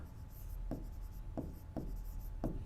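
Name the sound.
writing on paper while solving maths problem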